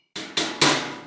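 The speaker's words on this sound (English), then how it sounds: "Anvil." Three quick metallic anvil strikes from a drum and percussion software instrument ring out close and loud, each hit bright and decaying in a fast accelerating sequence.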